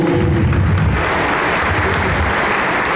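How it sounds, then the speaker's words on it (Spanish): Dense, loud applause from a conference audience fills the whole stretch, a steady wash of many hands clapping with no talk over it. "Fuerte el aplauso de todos ustedes"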